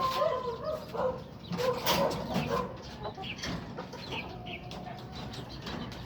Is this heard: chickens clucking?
yes